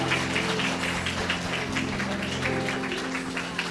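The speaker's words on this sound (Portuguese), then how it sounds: "a igreja pode aplaudir o Senhor nessa noite" A church congregation applauds during an evening service, a dense, steady wash of many hands clapping that fills the room with a constant hum beneath it.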